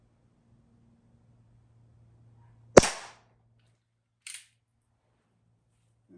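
Airgun fired outdoors at a target bowl, one sharp close crack followed a moment later by a faint short click, with quiet on either side.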